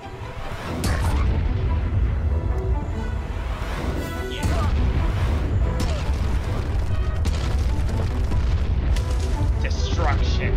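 Buildings are smashed apart in the Age of Mythology strategy game, with loud rumbling booms and crashing debris that continue throughout, under a talking voice.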